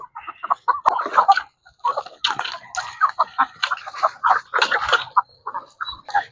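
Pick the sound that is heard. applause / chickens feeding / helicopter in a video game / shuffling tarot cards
chickens feeding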